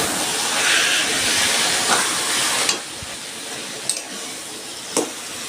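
Leftover water from boiling shrimp is poured into a hot pan. It bursts into a loud hissing sizzle that drops sharply after about three seconds to a quieter simmer, and a few light clinks follow.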